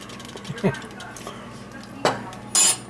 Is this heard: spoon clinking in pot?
yes